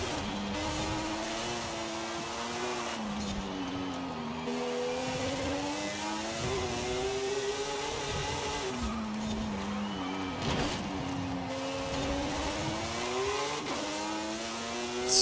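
Honda NSX with a racing tune in Forza Horizon, engine howling loud and continuous as revs rise and fall through repeated gear shifts while the car slides sideways.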